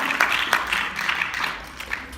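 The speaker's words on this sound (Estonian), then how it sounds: "teeme aplausi lastele" Audience applause for children at a 14–15-year-old fitness competition, a steady spread of mid-level clapping across the whole moment with a few sharper individual claps.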